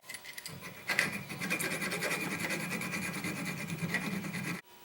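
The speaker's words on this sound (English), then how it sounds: "I'm going to use the file on my Leatherman" A small metal file on a Leatherman multitool rasps back and forth over a nub on an Olight S1R Baton flashlight in quick, steady close-up strokes for several seconds.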